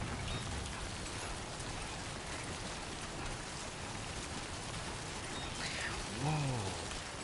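Steady rain falls in the video game Death Stranding 2, a dense even hiss that fills the whole stretch, with a brief low warbling tone rising near the end.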